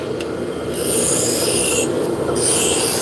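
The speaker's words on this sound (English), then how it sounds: "Now I'm going to switch from my roughing gouge to my spindle gouge." A spindle gouge cuts a spinning wood workpiece on a lathe, giving a steady close rasping scrape with bursts of brighter hiss as the tool bites, over the constant hum of the machine; no one talks.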